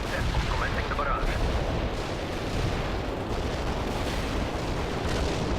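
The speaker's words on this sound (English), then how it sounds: "Commencing the barrage." Artillery barrage in the World in Conflict game, a dense, continuous rumble of shelling and explosions that stays loud throughout and blends into a single roar, with a voice speaking faintly over it.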